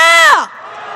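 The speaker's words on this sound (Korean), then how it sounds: "함성 시작." A crowd at a street protest march in Korea lets out a loud cheering shout that swells, then cuts off after about half a second and leaves quiet background murmur.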